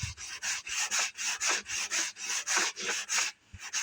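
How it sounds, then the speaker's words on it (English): Rhythmic back-and-forth scraping of a sanding block on wood, about a dozen steady strokes close by, with a brief pause near the end. "use this sanding block and sand it down a little bit."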